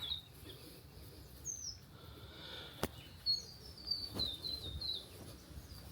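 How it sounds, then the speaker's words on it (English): High, thin chirps from a baby bird tweeting repeatedly in short bursts in the Noosa Everglades, faint against a quiet background with a couple of soft taps. "I heard baby bird tweet."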